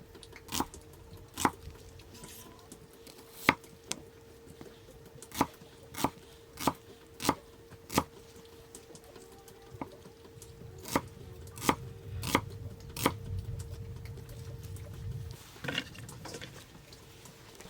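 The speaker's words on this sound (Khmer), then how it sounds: "ខ្ញុំដាក់ចំនួន3មើមហើយហាន់វារាងក្រាស់ៗបន្តិច" A knife chops red shallots into thick slices on a cutting board for pork larb: about a dozen sharp, close knocks in an uneven rhythm, some spaced apart and some quick, over a faint steady hum.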